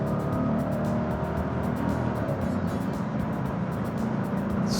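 Mercedes-Benz 500SEC AMG with AMG suspension accelerating on the interstate, a steady loud engine drone with road and wind rush heard from inside the car.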